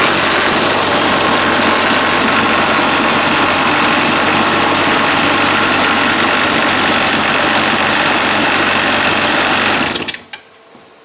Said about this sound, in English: Now we'll put it through a vibration test and listen to it.